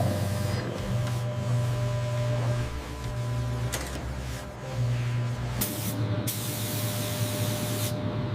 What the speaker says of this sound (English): Protective coat applied.